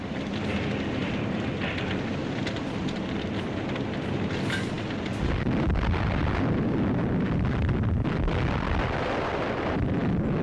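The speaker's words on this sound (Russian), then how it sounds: "Взрывалось все – заводы, электростанции, железные дороги и мосты." Explosions in World War II documentary footage as factories, power stations, railways and bridges are blown up: continuous loud rumbling blasts and roaring fire, growing heavier partway through, with no speech.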